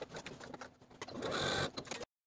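A sewing machine bastes the top edges of dress pockets in place, a quiet short run of rapid mechanical stitching that builds to a steady whir before stopping abruptly.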